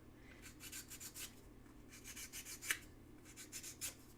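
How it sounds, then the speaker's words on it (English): Sandpaper glued to a popsicle stick rubs back and forth in short, quiet scratchy strokes, close up and faint, with a few tiny clicks between strokes and no talking. "I have my favorite tool here with the popsicle stick or a tongue depressor that I have glued down some sandpaper."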